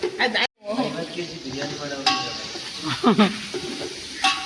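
Puris fry in a pan of hot oil with a close, crackling sizzle and stirring clatter, while people talk over the cooking throughout.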